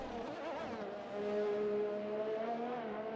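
A Formula 1 Red Bull car on medium tyres in the F1 2020 video game at Abu Dhabi, its engine a steady high whine that rises and holds at a sustained pitch, moderately loud and alone.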